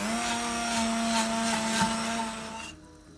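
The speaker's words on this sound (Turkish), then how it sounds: "Şimdi blenderdan geçireceğiz." A blender purees cooked nettles, whirring steadily at high speed for a few seconds, then cuts off abruptly.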